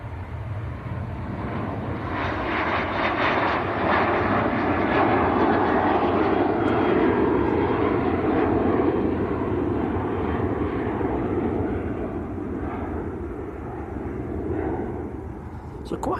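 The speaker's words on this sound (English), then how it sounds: "Ryanair just about to rotate." A Ryanair jet bound for Funchal, Madeira, rotates on takeoff at Manchester Airport, its broad engine roar steady and loud throughout, with a voice talking over it.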